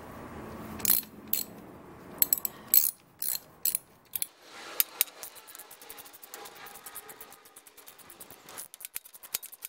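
Ratchet wrench tightening the rear shock on a KLX140L dirt bike, crisp clicking pawl strokes in short bursts that speed into a fast, dense run of ticks, close and clear.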